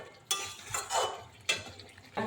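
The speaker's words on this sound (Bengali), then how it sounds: "এদিকে এই যে চিকেন হচ্ছে, দেখতে পাচ্ছ, চিকেন কষানো চলছে" Chicken being sautéed in a pan, heard as a spatula scraping and stirring in repeated strokes, with a soft sizzle between the rhythmic scrapes.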